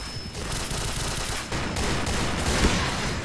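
Sustained rapid gunfire from a shooter video game, a loud, dense burst of shots fired continuously throughout, with no pauses or voices over it.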